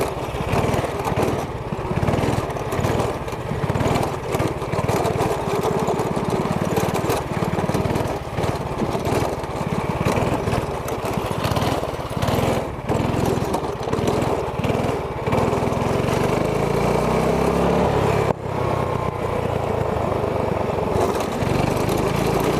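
A go-kart with no suspension, its small engine droning loud and steady up close for the whole stretch as it drives and tries a wheelie, with slight revving shifts and no talking.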